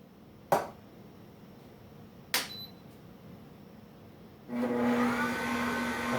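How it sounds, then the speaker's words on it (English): After two sharp knocks, a juicer machine switches on to juice a tomato, giving a steady loud motor whir with a constant hum that continues to the end. "So I turn on the machine."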